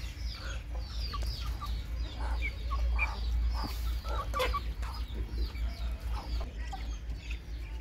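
Chickens cluck and chatter in a coop, with scattered nearby clucks and soft calls over a low, steady background hum.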